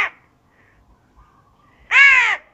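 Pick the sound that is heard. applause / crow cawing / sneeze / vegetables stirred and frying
crow cawing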